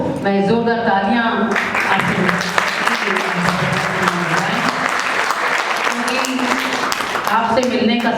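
An audience at a book launch breaks into loud, sustained applause, dense clapping running throughout while music or a voice carries on over it.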